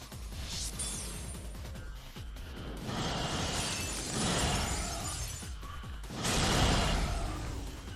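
Shatter attack effect in the mobile game Dissidia Final Fantasy Opera Omnia, fought against Kimahri: a run of loud glassy shattering crashes and whooshing bursts, rising in three waves over layered game music and effects, with no talk.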